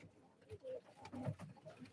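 A racing pigeon offered at a live auction gives soft, low cooing in a few short phrases, quiet and close.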